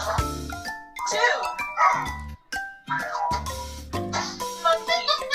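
Cartoonish dog barks and yips from a children's animal feeding game mix with chimes and jingly music, several short barks in a row set among bright game sounds.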